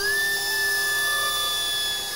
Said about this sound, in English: Now I'm using my router with an ogee bit to cut a pattern into the bottom of the bowl